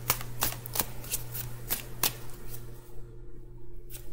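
A deck of playing cards being cut and riffled at a tarot reading table, giving a series of crisp papery snaps and flutters, close and fairly quiet, with a low steady hum underneath and no talking.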